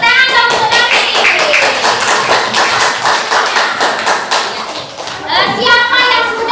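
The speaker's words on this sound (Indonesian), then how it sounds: "Tepuk tangan dong untuk Darin." Children clapping together in a primary classroom, a busy rhythmic patter of small hands with a young voice or two rising over it near the end.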